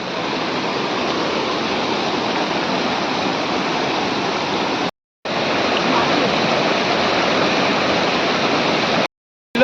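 A small waterfall in rainy Konkan country pours in a steady, dense rushing hiss close by, broken by two brief moments of silence.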